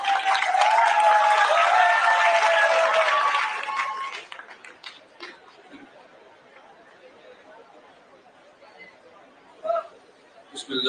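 Audience at a youth summit applauding a speaker with loud mixed clapping and chatter for about four seconds, then the room quiets to murmurs and sparse noises.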